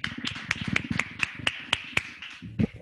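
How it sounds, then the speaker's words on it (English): An audience applauds after a scientific talk, with light, sparse, uneven claps from a small group, close and sharp, and a brief voice near the end. "Can you hear us clapping?"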